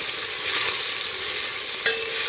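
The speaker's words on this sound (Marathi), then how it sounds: "थोडासा मऊ होईपर्यंत हा टोमॅटोही मी असं भाजून घेणार आहे" Onion, tomato and green chillies fry in a pan with a dense, steady close sizzle and a quick stirring scrape near the end.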